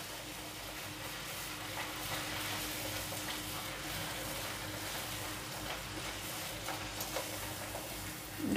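Rasabali dough fries in hot ghee, a steady dense sizzle and crackle that fills the whole stretch at moderate level, close by, with no one talking.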